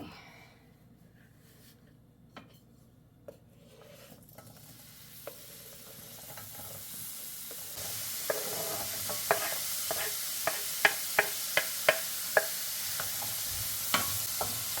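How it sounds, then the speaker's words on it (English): Quiet oil sizzle in a skillet that grows into steady frying of onions and carrots, with scattered sharp clicks and scrapes of stirring, no voices. "There's a little sizzle."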